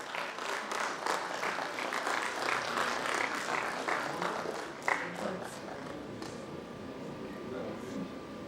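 An audience applauds a Punjab state minister at an entrepreneurs' conference in Chandigarh, with moderate clapping through the first half that thins out later, while speech runs underneath.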